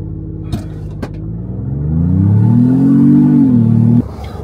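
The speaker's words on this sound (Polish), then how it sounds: "ta V6 przy ruszaniu bardzo fajnie robi hałas, a rusza na przykład tak." Ford Bronco Wildtrak 2.7 V6 pulling away from a stop, a couple of clunks followed by a rising, throaty engine growl that builds, holds for a moment and cuts off sharply, loud and close with no talk.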